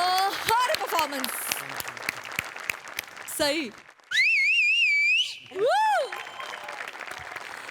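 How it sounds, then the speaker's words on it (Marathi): Loud audience applause at a Marathi comedy show, dense clapping with cheers and shrill whistles rising above it, and a voice speaking briefly amid the noise. "क्या बात जोरदार टाळ्या"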